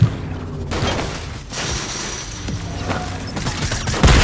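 Gunfire in a Fortnite Season 4 match, with sharp transient cracks and booms from sniper shots scattered over a busy battle backdrop, a few distinct hits standing out against continuous game noise.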